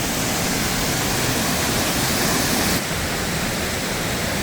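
Waterfall on a hidden route near Pucón, one of a series of falls: a loud, steady, broadband roar of rushing water filling the whole stretch without pause, heard close.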